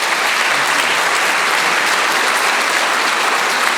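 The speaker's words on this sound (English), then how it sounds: "Big round of applause for all of our mayoral candidates." A dense, sustained wash of audience applause at a New Orleans mayoral candidate forum, many hands clapping steadily and loudly throughout with no break.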